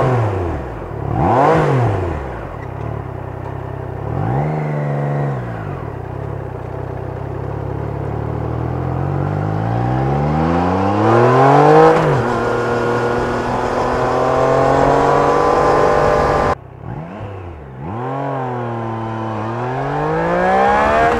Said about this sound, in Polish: a na wysokich obrotach on naprawdę przyjemnie się drze